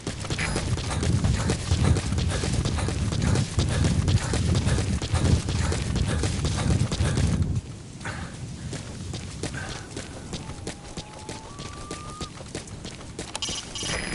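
Rapid clip-clop of horse hooves in Metal Gear Solid V in a steady galloping rhythm plays over a dense game soundscape, then drops to a quieter, sparser trot.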